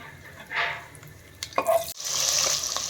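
Cashews and dried red chillies sizzling in oil in a pan, a soft crackling fry with a brief clink of a utensil and a steadier hiss toward the end, no talking.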